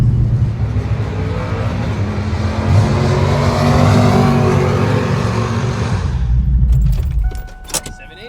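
A drag race car sits on a two-step launch limiter, its engine holding a loud, steady, crackling rev that cuts off sharply near the end, followed by a few clicks and rattles.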